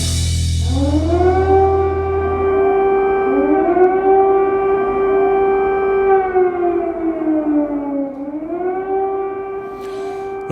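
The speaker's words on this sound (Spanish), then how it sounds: "Lo que están escuchando es el sonido de las sirenas que anuncian los bombardeos." An air raid civil defense siren in Ukraine wails loud and sustained, rising and falling in long slow sweeps with a brief dip near the end, alone and clear.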